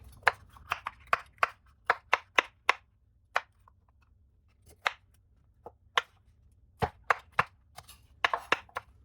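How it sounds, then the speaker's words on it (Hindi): A knife chops an onion into pieces on a board, sharp close taps coming in quick bursts with short pauses between, loud and alone with no talking. "प्याज देखें इसके हम ऐसे पीस कर लेंगे।"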